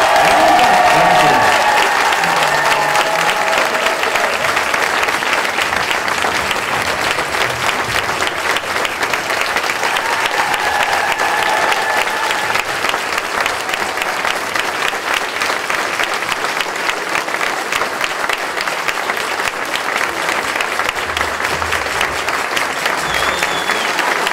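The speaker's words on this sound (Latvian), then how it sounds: "Ar aplausiem Ilgadei Talsu 2. vidusskolas direktorai" Sustained applause from a concert audience at a school anniversary event in Talsi, a dense, even wall of clapping lasting over twenty seconds without pause.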